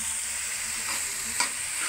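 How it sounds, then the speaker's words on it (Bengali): Chopped banana flower frying in a pan and being stirred, giving a steady, close sizzle with a brief scrape of the spoon partway through. No voices. "কলার মুচা আমাদের ভাজা হয়ে গেছে"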